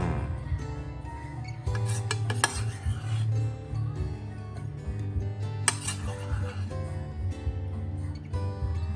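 Milk foam spooned onto a hot milk drink at a fresh coffee shop, with the spoon clinking and scraping against metalware and cups over a steady background hum.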